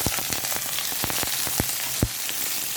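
Chopped onions sizzle and crackle as they fry in about three tablespoons of hot oil, a steady close hiss broken by sharp pops, with no talking.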